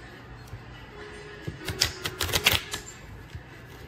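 A short burst of rapid clicking and riffling, like playing cards being shuffled, close by and over within a couple of seconds.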